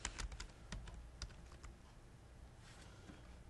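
Clicking computer keyboard keys while entering a search term in Autodesk Revit software, a quick cluster of close, fairly quiet taps at first, then sparser keystrokes over a soft background hiss.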